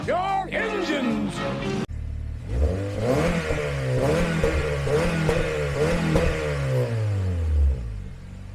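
Audi A4 B8.5 fitted with a bigger turbo and intercooler revs hard several times, the engine climbing and falling in loud close bursts before one long sustained pull, preceded by a brief whine.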